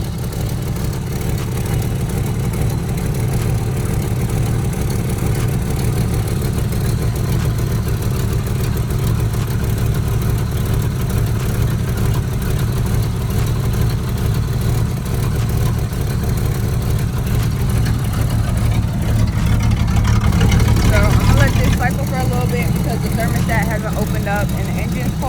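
A cold stock engine in a 1985 Ford Mustang T-top idles with a steady low rumble and a constant, loud drone, with a slight rise near the end and someone talking over it.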